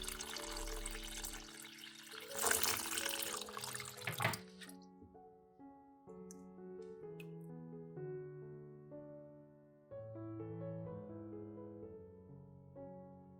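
Water pours briefly with a rushing splash into a bowl of tomatoes, filling it completely, then settles into scattered drips and soft ringing plinks in a quiet room.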